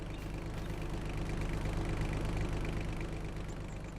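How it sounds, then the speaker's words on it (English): A tractor engine runs steadily in Farming Simulator 25, a constant low, throbbing drone with a slightly knocking pulse, held at a fairly even level and close by, with no talk over it. "My engine's running all over the place."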